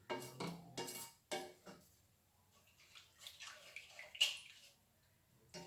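A spoon clinks and scrapes against a pot as sugar is stirred into seviya sabudana milk kheer: a handful of sharp, separate metallic knocks with quiet gaps between, fairly soft and close.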